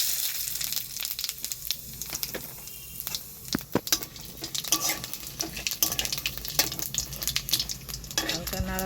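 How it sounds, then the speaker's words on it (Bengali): Cumin seeds, a cinnamon stick and bay leaves sizzle in hot oil in a pan, a close crackling fry broken by sharp scraping stirs and clinks of a spatula, with no talk. "জিরে ফোড়ন।"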